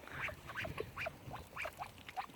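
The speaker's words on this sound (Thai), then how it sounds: "ไก่ลูกครึ่งเอ้ยเป็ดลูกครึ่ง" Mixed-breed ducks quack repeatedly in a quick, uneven series of nasal calls, fairly close, with no voices and only faint background noise.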